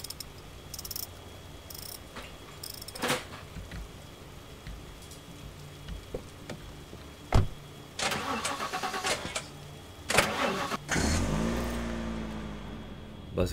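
Car engine in the PC game The Last Stand: Aftermath, a repaired motor that starts with short bursts and then settles into a steady running drone, alongside intermittent cricket-like chirps and other game effects.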